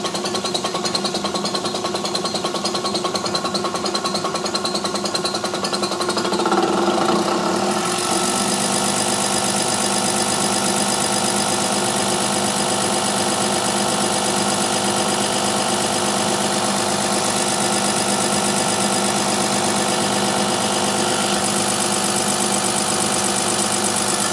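A 1989 Dodge Ram with a 5.9L Cummins diesel and Bosch VE injection pump idles steadily and loudly up close, a constant mechanical drone with a brief surge partway through and no talking.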